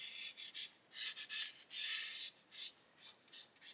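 Sandpaper rubs over the painted fuselage of a model aircraft in short, soft back-and-forth strokes, a quiet close-up rasp with irregular rhythm and no voices.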